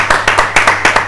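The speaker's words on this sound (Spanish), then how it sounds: "este aplauso es para vos" Studio audience applause on a television program, heard as a short burst of sharp, rhythmic claps close to the microphone, about eight distinct hits in quick succession.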